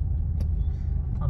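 Car driving over a rough, badly damaged stretch of the Mumbai–Goa highway route through hilly Konkan: a steady, close, low road rumble and engine drone running without a break.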